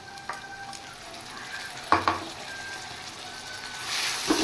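Fried onion sizzles with added ginger, cumin and green chilli paste: a continuous soft hiss, a couple of sharp utensil knocks near the middle, and the sizzle swelling louder at the end.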